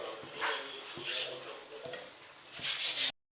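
Seeval, a traditional Tamil snack, sizzles in hot oil with a soft hissing fry, punctuated by several light scraping stirs and clinks of a ladle, fairly close and quiet.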